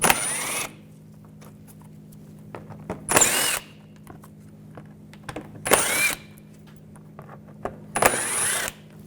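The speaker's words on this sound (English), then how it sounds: "you're going to switch to a T25 socket. Take these screws out." Power driver with a T25 socket removing screws during EGR valve replacement on a 2011-2018 Volkswagen Jetta 2.0L TDI: four loud short whirring bursts separated by pauses with faint clinks and handling sounds, no talk.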